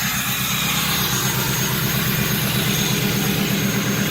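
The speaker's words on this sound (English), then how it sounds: "You're hearing the high idle. It's that exhaust is mean and throaty." A 2005 Ford F250 4x4 Powerstroke diesel pickup with a 3-inch lift sits at high idle, its exhaust a steady, throaty low rumble heard close and continuous.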